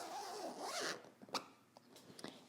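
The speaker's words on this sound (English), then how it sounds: "close our zipper." A clothing zipper is pulled closed on a sewn skirt, a close, quiet ripping zip lasting about a second, followed by a few soft ticks and rustles of fabric.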